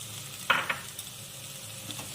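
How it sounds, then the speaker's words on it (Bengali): Poppy seed paste drops into potatoes frying with spices in a pan, giving a brief sharp sizzle followed by soft frying crackle and faint stirring. "এবার পোস্ত বাটাটা দিয়ে দেব।"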